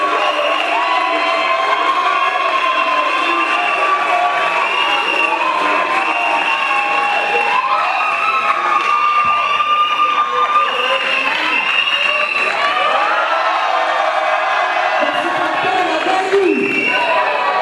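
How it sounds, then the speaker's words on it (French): A crowd at a school graduation ceremony in a hall cheers and whoops steadily, with shouts and a din of voices filling the space throughout, loud and dense without letting up. "Ému de ces acclamations"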